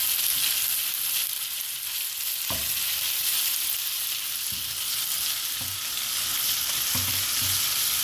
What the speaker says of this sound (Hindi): अब इसमें मैं डाल रही हूँ चिकन। चिकन को इसमें हम फ्राई करेंगे